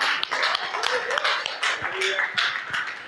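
Congregation clapping in a church during a worship service, dense overlapping claps sustained and fairly close, with some voices mixed in.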